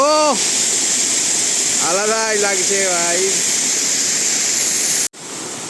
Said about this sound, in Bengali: ঝর্ণাটা অনেকটাই বড় আছে এখানে